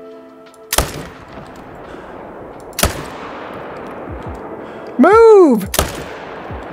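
Rifle shots from a black bear hunt in the Call of the Wild hunting game, three sharp, loud reports spaced a couple of seconds apart. A voice shouts briefly and a bear-like bellow sounds between the later shots.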